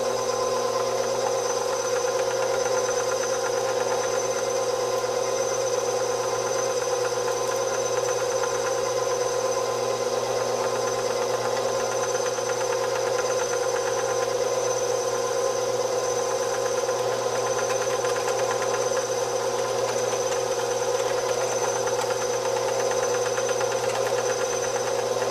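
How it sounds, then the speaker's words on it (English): An electric meat grinder runs steadily as it grinds meat, a constant motor hum with a steady whine that stays even and unbroken from start to finish, with no talking. "it probably took me about 6 or 7 minutes to grind this meat up"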